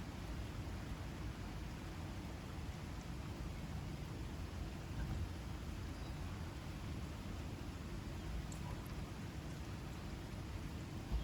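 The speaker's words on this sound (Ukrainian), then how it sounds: "Але мені подобається, що сьогодні дощ." Steady, soft rain falls continuously with an even hiss and no voices, a quiet wash of drops throughout.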